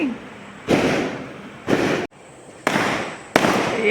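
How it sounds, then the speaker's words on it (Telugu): Firecrackers going off nearby during Diwali-time celebrations, four loud crackling bursts, each lasting about half a second, separated by short gaps, with faint background noise between them. "ఎవరో టపాసులు వేసుకుంటే మేము సంతోషపడుతున్నాం అండి"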